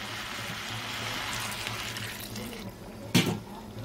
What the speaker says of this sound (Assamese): এতিয়া মই দি দিম পানী